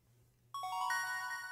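In the video game Stardew Valley, a bright, chiming level-up jingle for foraging rings out suddenly after a quiet moment, its clear bell-like tones hanging and sustaining to the end.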